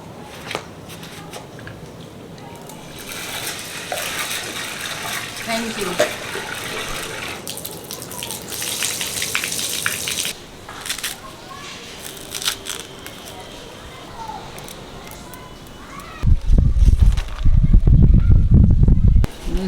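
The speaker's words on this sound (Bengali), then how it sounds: "ছোলার ডালটা ধুয়ে নিচ্ছি ভালো করে" Split chickpeas being washed under a running tap in a home kitchen: a steady hiss of water and rinsing swishes throughout, with a heavier, louder rush of water near the end and a voice at times.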